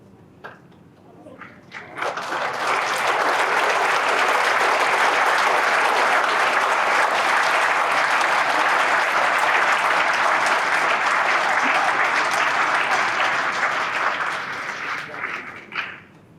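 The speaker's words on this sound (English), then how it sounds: "Please extend your applause for our 2025-26 Citizen of the Year" A banquet crowd at a chamber of commerce dinner breaks into loud, sustained applause that swells after a couple of seconds, holds dense and even for about twelve seconds, then tapers off.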